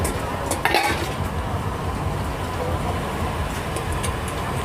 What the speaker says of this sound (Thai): เจ๊ทำต้มยำอยู่หลังร้านนะครับ